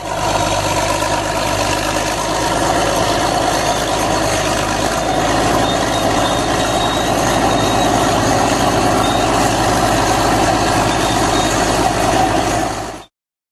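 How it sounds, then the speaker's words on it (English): A bulldozer engine runs steadily at a loud, constant level, a heavy diesel drone with a rattling, mechanical texture that holds unchanged for the whole stretch. "Bulldozer."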